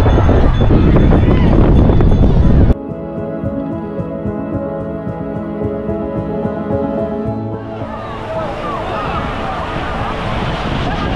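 Ocean surf breaks at the seashore in a loud, windy wash. It drops away into a steady tonal drone for several seconds, then the rushing waves return.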